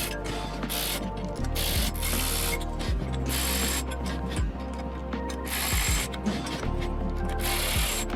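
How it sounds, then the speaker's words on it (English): A Ryobi 4-volt USB lithium 3/8-inch powered ratchet tightens bolts on a shop stool, its motor whirring with a grinding, clicking drive in repeated short runs and brief stops, close and loud with no talk. "gonna be using this nice Ryobi 4-volt USB lithium 3/8" ratchet"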